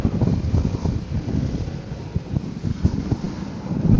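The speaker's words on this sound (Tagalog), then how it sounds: "Lakas ng hangin." Strong wind buffets the microphone in a constant, loud roar with gusty swells throughout.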